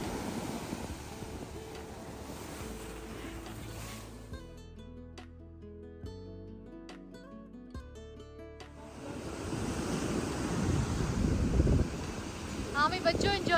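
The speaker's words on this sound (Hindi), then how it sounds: "तेज़ वेव्स होती हैं पानी की।" Strong ocean waves break on the beach at Salalah, Oman, a loud broad wash of surf with wind buffeting the microphone, dropping behind music midway before the roaring surge returns louder.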